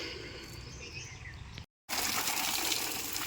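Water sprays steadily from a hose onto sun-wilted garden plants, a soft continuous hiss that cuts out for a moment and then resumes more strongly.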